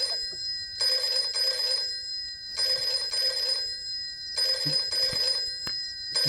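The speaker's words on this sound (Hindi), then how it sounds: "टेलीफोन की घंटी बजा रहा है" A telephone bell rings in a Hindi movie scene, three loud, even bursts of shrill electronic trilling separated by brief silences, with no talk over the rings.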